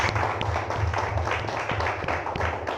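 A church congregation claps steadily for about three seconds, a dense, rhythmic patter of many hands close by, with low organ or music tones underneath.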